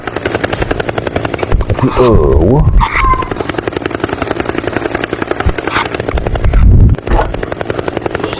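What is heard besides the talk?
helicopter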